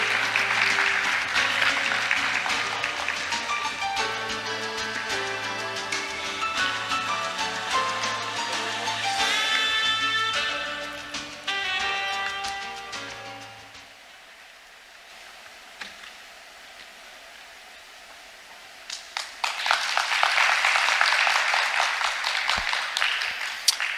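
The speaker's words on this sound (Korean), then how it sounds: "큰 박수 부탁드립니다." Opening ceremony audience at a sustainable tourism conference applauds as the next speaker is welcomed, clapping blended with music for a long stretch, dropping to near quiet, then a fresh loud wave of applause near the end.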